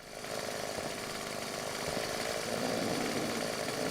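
Chainsaw roar from the video game Final Fantasy XIV, a steady buzzing motor drone that swells in after a moment and holds at a constant, fairly loud level throughout.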